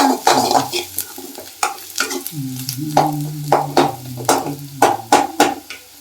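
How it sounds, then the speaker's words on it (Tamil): Onions browning in an oiled pan, a steady soft sizzle under repeated scraping stirs of a spoon, close and rhythmic, alone without talk. "வெங்காயம் வதங்கிடுச்சா?"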